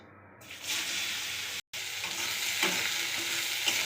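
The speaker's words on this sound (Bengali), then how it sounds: "এবার আমি কেটে রাখা উচ্ছেগুলো ভেজে নেব।" Sliced bitter gourd frying in a little white cooking oil in a pan, a steady close hissing sizzle with faint stirring scrapes and a brief dropout partway through, no voices.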